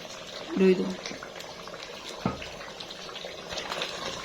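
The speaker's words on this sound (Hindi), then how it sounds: "अभी हमारे चावल बॉयल हो रहे हैं" Rice boiling in a pot for a village-style chicken biryani, a soft steady bubbling and simmering hiss at low volume, with a brief clatter near the start.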